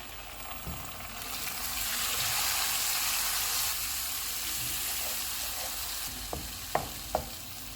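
Ginger garlic paste and tomato puree frying for chole, a broad hiss that swells as the puree hits the hot pan, then settles into a steady sizzle with a few sharp spoon taps near the end, no voices.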